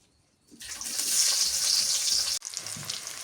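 Turmeric hits hot oil for a lentil tempering, bursting into a loud, bright sizzle after a brief quiet start, holding steady, cutting off abruptly, then returning as a lower crackle.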